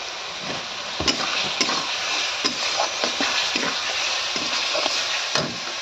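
Chopped tomatoes go into a spice paste frying in oil for a rohu fish and taro curry, giving a steady loud sizzle broken by a few sharp scrapes and clacks of stirring.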